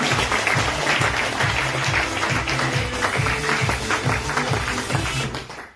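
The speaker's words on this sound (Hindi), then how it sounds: "एक बार अपने लिए जोरदार तालियां बजाइए।" Loud, sustained applause from an audience at a business plan presentation, many hands clapping steadily with a strong low thump, fading out at the very end.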